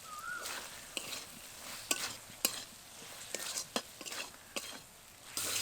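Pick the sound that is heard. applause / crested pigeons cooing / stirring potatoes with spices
stirring potatoes with spices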